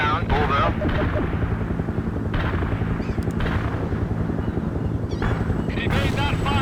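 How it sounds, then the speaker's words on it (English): Artillery barrage in the video game World in Conflict, a dense run of heavy booming impacts and gunfire rumbling continuously beneath radio-style voice chatter from units. "The barrage is on the way."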